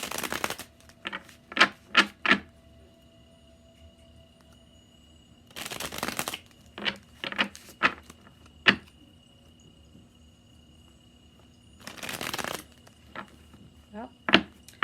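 Thick tarot cards are shuffled in three dense riffling bursts, with scattered sharp taps and snaps of cards between them, fairly quiet and close, no talking.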